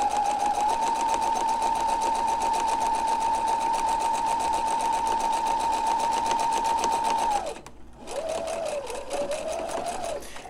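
Sewing machine running steadily as it stitches a fabric face-mask seam, a loud continuous whirring hum for about seven seconds, a brief stop, then a shorter burst of stitching.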